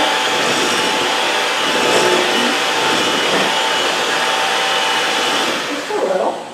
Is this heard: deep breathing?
no